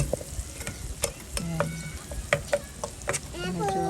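Food sautés in a pan at a riverside camp, a light sizzle punctuated by irregular clicks and spatula scrapes, with people talking nearby over the cooking.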